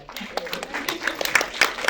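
Audience members at a Hollywood panel discussion snap their fingers in place of applause, producing scattered light, crisp clicks that overlap into a soft, irregular patter across the room, fairly close and moderately quiet.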